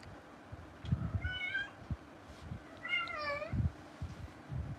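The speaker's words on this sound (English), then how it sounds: "Hear my kitty in the background. She's going. She's in heat." A female house cat in heat gives two drawn-out, wavering meows a couple of seconds apart, heard in the background of an indoor room over low thumps and rustling.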